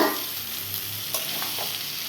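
Pointed gourd pieces frying with spices and mango in a pan, a steady close sizzle with a faint stir and scrape partway through, and no voices.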